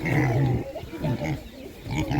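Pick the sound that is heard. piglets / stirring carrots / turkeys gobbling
piglets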